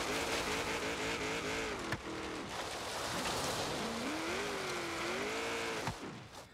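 A 2002 Chevrolet Corvette Z06 racing up a hill climb time attack, its engine revving hard and wavering through gear changes with tire noise, loud and continuous.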